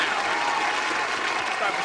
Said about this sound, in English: let me go ahead and clap it up now.